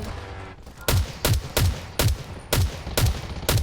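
Rapid bursts of gunfire in the video game Garena Undawn: seven loud, punchy shots in a steady rhythm about half a second apart, close and dominant with no talk over them.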